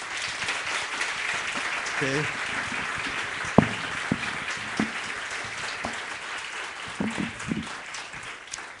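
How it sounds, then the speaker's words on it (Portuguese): Church congregation applauding to welcome new pastors, a steady wash of clapping from many hands throughout, with a few louder claps standing out and brief speech near the end. "Quantos gostariam de receber esses irmãos com um aplauso?"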